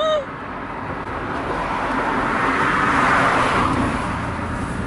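A car passes close by on a road beside a parked van, its engine and tyre noise swelling to a loud peak midway and then easing off as it moves away.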